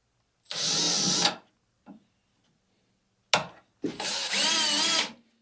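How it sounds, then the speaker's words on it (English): A power drill bores pilot holes for a seat install in a Datsun 280Z, with two long, loud, steady whirring runs separated by short taps and brief starts. "you should, if you're doing anything big, drill a pilot hole"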